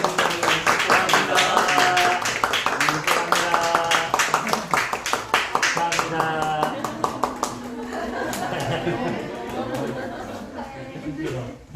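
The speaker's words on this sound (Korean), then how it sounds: "네, 박수." A church congregation at a Sunday worship service claps in quick, crisp strokes throughout, mixed with laughter and lively chatter, the clapping gradually thinning toward the end.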